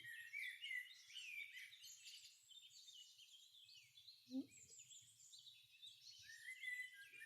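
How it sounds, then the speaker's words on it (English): Several birds chirp and warble outdoors in winter, with bright overlapping calls repeating across the whole stretch at moderate distance, over a quiet background with one brief low knock. "Do you hear the birds?"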